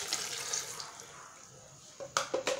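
Water pours from a tap or jug into a blender for a sweet potato smoothie with oats and honey, a soft steady splashing run followed near the end by a few sharper, louder bursts of liquid.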